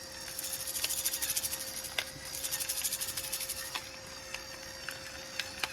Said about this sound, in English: And I grind the white and the red and the black pepper.